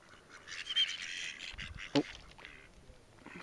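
A few faint duck quacks outdoors at Lake Rotoiti, St Arnaud, New Zealand, soft and distant, with a louder single call near the middle over quiet background noise.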